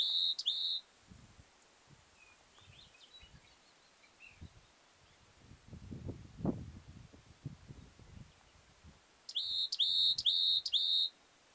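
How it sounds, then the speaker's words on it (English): Outdoors at Lava Beds National Monument, bright bird whistles and chirps ring out in short repeated bursts at the start and again near the end, with soft wind and rustling between them in an otherwise quiet setting. "whole LavaBeds park is so quiet. All you can hear are birds and wind."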